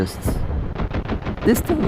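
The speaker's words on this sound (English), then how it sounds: "It has a very nice main cannon, a autocannon that basically shreds everything" A fighter plane's autocannon in the mobile air-combat game War Thunder Mobile fires in rapid bursts, a loud rattling string of shots broken by brief pauses, with a voice talking underneath.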